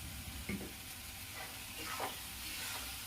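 Masala sizzles softly in oil in a pan, a faint continuous frying hiss with a few brief scraping stirs.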